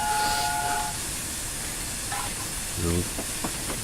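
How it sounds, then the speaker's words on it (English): A Flying Scotsman steam locomotive whistle sounds briefly near the start, a steady high tone over loud hissing steam and rumbling engine noise, followed by scattered clanks. "we'll give them a whistle if we go through."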